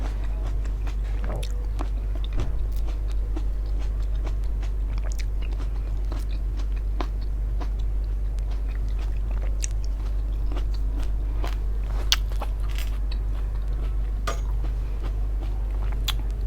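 Crisp grapes being bitten and chewed, a run of small crunchy bites and wet chewing noises close up over a steady low hum, with no talking.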